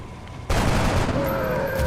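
A loud burst of gunfire from X-COM: Enemy Unknown erupts abruptly after a brief lull and becomes a dense, sustained roar of shots, with a ringing tone lingering underneath.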